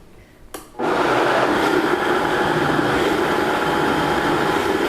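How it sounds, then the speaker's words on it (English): After a short click and a brief whir, an overfilled blender of broccoli cheddar soup switches on and runs loud and steady, a dense whirring roar with no talking. "a pretty full blender. Might have overfilled it."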